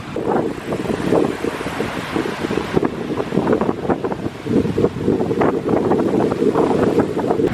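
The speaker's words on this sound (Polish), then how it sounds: "fale kuźwa uderzające w brzeg plaży" Waves break steadily on a beach in Gdańsk on the Baltic coast, with constant wind buffeting the microphone throughout and no talk.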